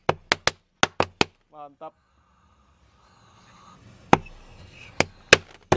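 A 50-shot mini cake firecracker goes off inside a well: a quick run of sharp cracks, a short pause with a brief voice, then a rumbling echo and a few more loud bangs.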